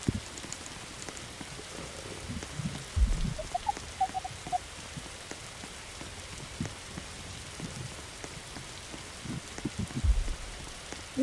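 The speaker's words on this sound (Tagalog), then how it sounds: "Tignan mo, umuulan." Steady rain falling in a forest, a soft continuous patter of drops on surfaces with a few faint bird chirps and occasional low thumps, no voices.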